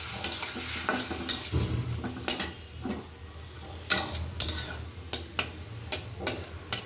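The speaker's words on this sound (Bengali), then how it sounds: "তো মশলাটা কষায় নিচ্ছি" Spice masala of dried chilli powder with a little water cooking in a pan for a fish curry, a moderate sizzle punctuated by a rhythmic series of sharp spatula taps and scrapes against the pan, close by.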